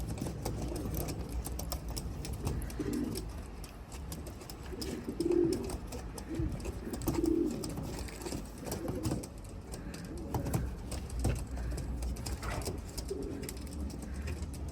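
Racing pigeons coo steadily at the loft on the day of a young bird race, soft throaty calls repeating through low outdoor hum and rustling.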